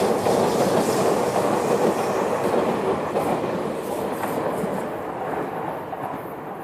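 A regular Toba line train passes a station in Tokyo, wheels clattering steadily over rail joints, loud at first and gradually easing as it moves away, with no voices.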